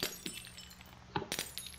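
Glass shatters in the video game CS:GO, a sharp crash followed by scattered tinkling shards, set over a steady low in-game hum with a few faint earlier clinks.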